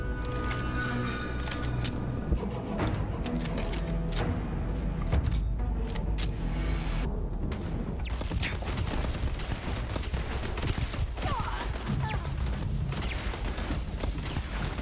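Dense, continuous rapid-fire turret gunfire fills a Starfield space battle, loud and unbroken, with booming impacts and mechanical clatter layered throughout.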